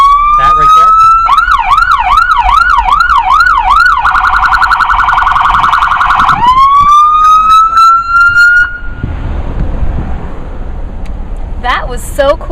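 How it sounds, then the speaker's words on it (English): A police car siren cycles through modes, from a rising wail into a rapid warbling yelp, then a harsh pulsing tone, then back to a steady rising wail. It is very loud and close throughout, with brief speech near the end. "if you flick it back to pursuit and the siren goes on"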